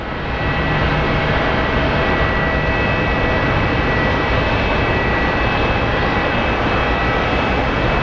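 An Alaska Air Boeing 737-800 arriving from Everett at Sky Harbor International Airport in Phoenix, giving a steady loud broadband jet engine roar throughout with no pauses.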